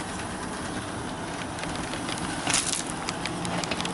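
A Hornby Rebuilt Royal Scot class model locomotive runs with its mechanism and link motion moving, giving a steady, faint whirring hum with light clicking ticks, heard alone with no talk.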